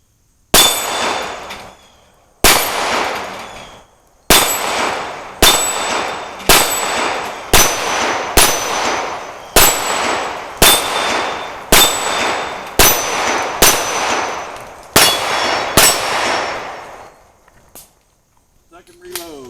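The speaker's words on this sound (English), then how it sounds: "I'm just going to shut up and shoot a little more." SIG Sauer P320 X5 Legion pistol fired at steel targets: about a dozen sharp, loud shots in a steady rhythm, each with a ringing metallic clang and a decaying tail, and a small clatter at the end.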